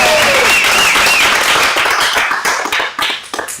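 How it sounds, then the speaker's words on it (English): An audience gives a round of applause at a stage show, a dense, loud burst of many hands clapping that thins toward the end into scattered claps. "let's hear some round of applause"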